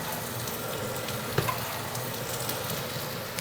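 Shallots fry in a pan with a steady, close hiss of sizzling oil, broken once by a brief utensil clink.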